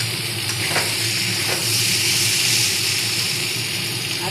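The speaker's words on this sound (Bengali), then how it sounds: "কেননা পোস্তটা একটু তো ফ্রাই হতে হবে" Pointed gourd and poppy seeds fry in a pan with a steady, close sizzle and crackle throughout, with a few faint stirring scrapes and no talking.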